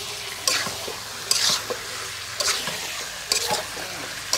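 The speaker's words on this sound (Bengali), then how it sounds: "এই যে গোস্তটা কষাচ্ছি" Chicken meat being sautéed in a pan, with a low steady sizzle and a handful of scraping stirring strokes roughly once a second, close and moderately loud, with no voices.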